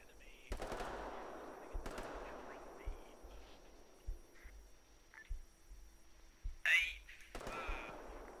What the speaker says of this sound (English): He's shooting through the fence, that's why we can't see him.